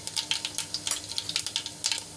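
Mustard seeds popping in hot oil for Kathiyawadi garlic curry, a rapid, irregular series of sharp crackles and pops over a low sizzle, close and alone.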